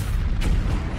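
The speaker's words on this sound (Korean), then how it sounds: "그때 대포가 펑펑 소리를 내더니 피터팬을 향해 날아왔어." A cannon fires in a children's Peter Pan audio story, two loud booming blasts rolling over a dense low rumble in quick succession.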